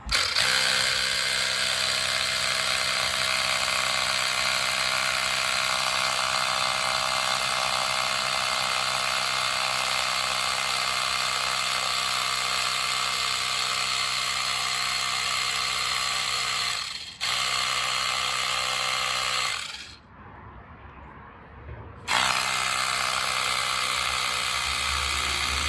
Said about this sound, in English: We're going to see if we can pump a little air in there